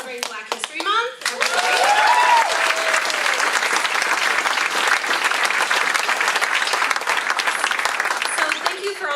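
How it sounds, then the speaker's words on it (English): A crowd at a Cory Booker event in Cedar Rapids celebrating Black History Month bursts into loud, sustained applause after a short spoken line, with thick clapping holding steady to the end. "Please can we get a round of applause for celebrating Black History Month?"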